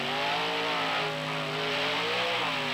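Grave Digger and Snake Bite monster trucks race side by side at a 1995 beach event in Wildwood, New Jersey, their engines roaring loudly and continuously as they climb and waver in pitch.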